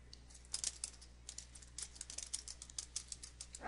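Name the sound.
typing a question on a computer keyboard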